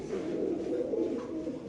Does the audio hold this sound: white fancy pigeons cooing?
yes